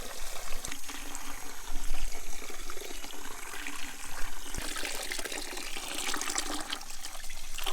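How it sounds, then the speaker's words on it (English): A Subaru WRX oiled air filter rinsed under a low-pressure tap, water splashing and trickling steadily with small bumps as it is handled, close and continuous with no talking. "You just want to do this under real low pressure water."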